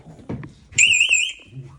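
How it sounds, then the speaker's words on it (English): A short electronic house alarm panel chirps as it is armed, a bright, wavering two-tone beep for about half a second, preceded by faint shuffling and a brief voice. "Turn on the alarm."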